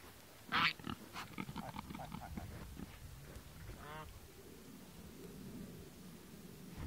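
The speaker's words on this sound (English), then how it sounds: "now they're munching on all this fresh grass" Pigs grazing on fresh grass outdoors, with a loud squeal early on, then soft grunts and munching sounds, with a voice speaking nearby.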